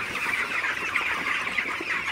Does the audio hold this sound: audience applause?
no